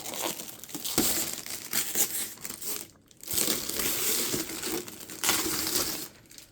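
Protective film being peeled off the painted green-yellow body shell of an ARRMA Senton 223S V4 RC truck, a continuous crinkling, crackling rustle with a brief pause partway through.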